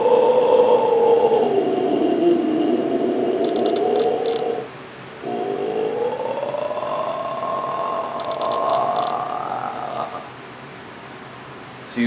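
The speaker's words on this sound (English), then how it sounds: "I inhaled, I exhaled, both making the grudge sound." A vocalist performs the inhale-and-exhale scream technique, a raspy, croaking grudge sound: one long sustained strained tone on the inhale, a brief pause, then another drawn-out rasp on the exhale, loud and close with no talking.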